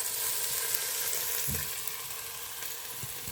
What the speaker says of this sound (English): now that meat has started to brown